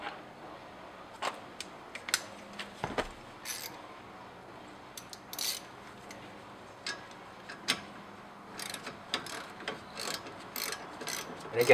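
A ratchet wrench works a 13 mm bolt on the rear of a BMW E30 brake assembly during a rotor and pad install, giving quick bursts of close mechanical clicking separated by short pauses.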